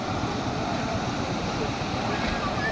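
Sea waves washing in a steady, broad roar with wind buffeting the microphone, continuous and fairly near, on a coast where fishermen wait to head out.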